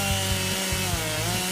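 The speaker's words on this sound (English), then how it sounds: "A chorus of chainsaws could be heard in this Kirkwood neighborhood today." Chainsaws cut through tornado-damaged trees in a Kirkwood neighborhood after an EF0 storm, a loud droning engine with steady harmonic whine and a few brief low pulses as the saw bites into wood.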